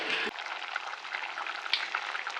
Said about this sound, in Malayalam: അപ്പം നമ്മുടെ മീൻ കറി ഇവിടെ നന്നായിട്ട് തിളച്ച് കേട്ടോ